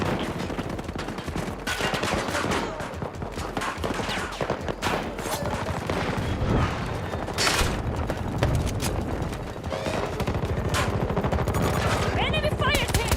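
Enemy gunfire in an online military shooter game, sustained bursts of automatic fire and heavy shots that rattle on throughout, loud and close, with voices talking over the action.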